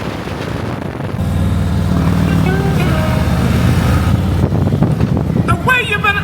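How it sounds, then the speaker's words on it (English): A motorcycle on a charity ride in town rumbles up and pulls away, engine tone rising over wind buffeting on the microphone, with people talking nearby. "So let me get myself together so I can hop on this motorcycle"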